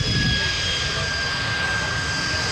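A T-33 jet warbird passes at a 1995 airshow, a loud, sustained engine roar with a high steady whine layered on top, close and powerful at the start and easing slightly as it goes by.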